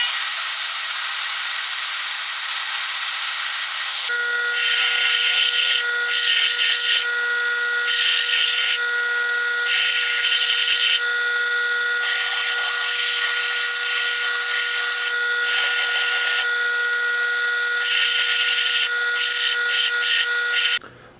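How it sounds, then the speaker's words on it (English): Steel guard of a V-42 combat knife being ground on a power grinder, a loud, steady abrasive whine and hiss that starts after a few seconds and runs unbroken to the end, with no talking. "now that I've ground the guard clean"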